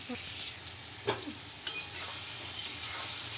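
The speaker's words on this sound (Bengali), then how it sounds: "এটাকে ভালো করে নেড়ে নেড়ে ভাজতে হবে" Masala and onion stir-fried in a pan: a soft, steady sizzle with a couple of brief spoon scrapes near the middle, faint and continuous with no talking.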